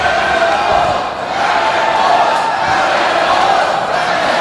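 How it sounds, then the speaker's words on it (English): A wrestling crowd chanting Hannibal's name, a loud, dense roar of many voices that holds steady throughout with only a brief dip. "And you can hear the loud Hannibal chant."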